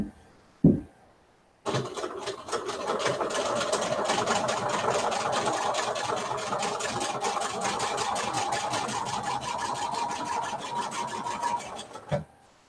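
A home sewing machine runs a continuous stretch of small 1.7-length stitches for a 3-D Christmas tree kit, a steady, fast mechanical whir and needle patter lasting about ten seconds, bracketed by brief clicks.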